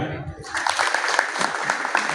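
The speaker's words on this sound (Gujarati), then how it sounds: "એ બદલ આપણા માટે એક તાળીઓ." Audience at a large Hindu gathering breaking into applause after a brief quiet start, a dense, steady clapping that swells and holds close and fairly loud to the end.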